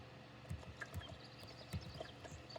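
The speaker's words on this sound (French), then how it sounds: "Donc là je vais bien le faire galoper" Galloping horse hooves in the Star Stable Online video game, a steady rhythmic run of soft thuds repeating at an even pace throughout.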